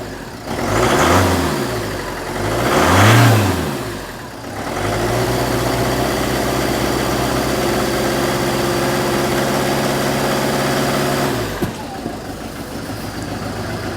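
A Citroen Berlingo diesel engine cranks twice in loud surging bursts, then catches and settles into a steady, close idle that runs for several seconds before a brief change near the end.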